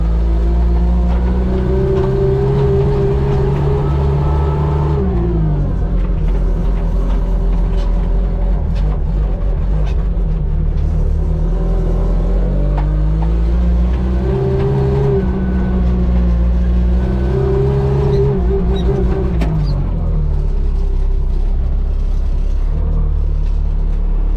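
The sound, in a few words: Chinese wheel loader driving, engine revving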